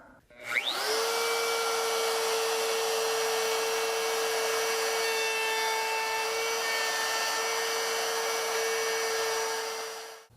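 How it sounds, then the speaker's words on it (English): A router bit cuts into poplar wood clamped in a vise, spinning up with a rising whine and then holding a steady high, buzzing tone for about ten seconds before winding down, close and alone. "We'll go ahead and route this out and see how it looks."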